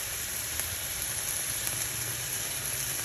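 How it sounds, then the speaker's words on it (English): Bay leaves and minced garlic sautéing in a pan sizzle steadily and close up, a dense continuous hiss with faint crackles and no voices. "Adding the bay leaves and the minced garlic. Saute for a minute and then add the onions."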